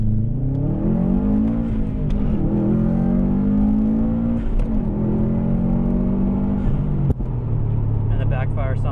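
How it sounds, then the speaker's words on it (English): A Subaru STI engine revs hard in several rising sweeps, sharp crackling exhaust backfire popping between them, with a loud pop near the end before the note settles back, all heard close up. "And the backfire sounds awesome."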